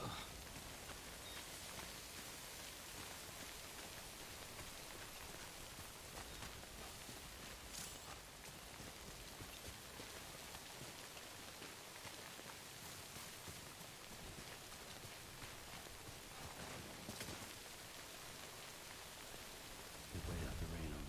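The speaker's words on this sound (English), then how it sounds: "We wait out the rain over there." Steady rain from the video game Death Stranding Director's Cut pours as a continuous hiss with occasional brighter gusts and faint rumbles, holding an even, moderately loud level with no voices present.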